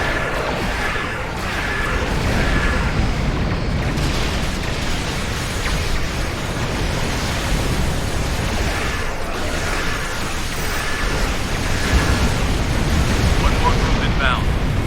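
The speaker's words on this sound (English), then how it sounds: "All operative weapons, fire at will." Starship weapons fire and explosions in the space combat game Star Trek Online, a loud continuous roar of blasts and rumbling impacts that persists without a break across the whole stretch.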